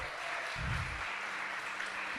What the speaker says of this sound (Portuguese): Dá uma salva de palmas para a Bárbara.